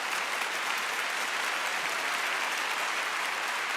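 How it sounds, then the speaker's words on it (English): Steady applause from a small group fills the whole stretch, an even dense patter of clapping at moderate volume with no voices over it. "A round of applause."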